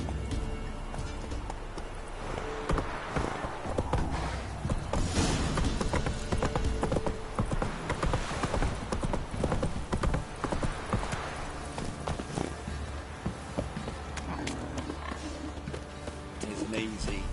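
Roach, the horse from The Witcher 3 game, gallops with quick, rhythmic hoofbeat clip-clops throughout, mixed with other game sounds and a voice over the top.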